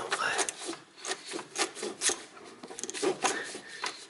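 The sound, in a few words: opening car distributor cap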